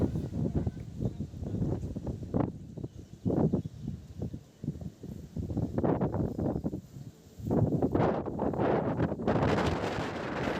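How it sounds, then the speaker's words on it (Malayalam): Strong gusts buffet the microphone at a sixteen-acre date farm in a windy, dry area, coming in loud uneven bursts with brief lulls between them. "നല്ല കാറ്റുള്ള ഒരു പ്രദേശമാണ് ഇവിടം"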